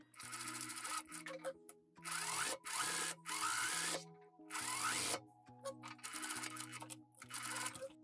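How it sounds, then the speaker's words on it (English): A sewing machine stitches around the fabric pieces of a pair of DIY cargo pants in bursts of steady mechanical whirring, each run lasting about a second, separated by short pauses, with soft background music playing underneath. "So you just wanna start stitching right here and go all around it"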